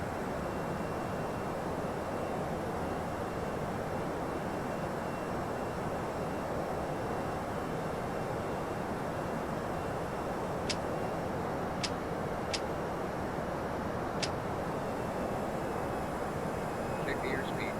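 Airliner engines roar steadily and loud as the plane climbs after takeoff in the Prepar3d flight simulator, a continuous broadband drone with a few faint clicks partway through.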